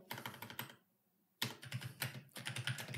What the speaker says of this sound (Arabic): راح اكتب امر واحد فقط لا غير اللي هو sudo